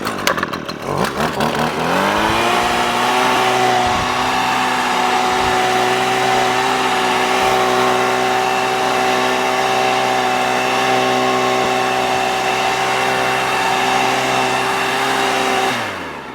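Axial blower attachment from Wild Badger Power driven by a 26cc gas weed trimmer engine, starting up with a rising rev and then holding a loud, steady high-pitched whine and roar for about fourteen seconds before easing off.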